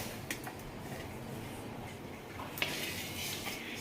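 Mustard seeds roast in a dry pan, producing a faint, soft sizzle with occasional small ticks and scrapes of a utensil against the metal.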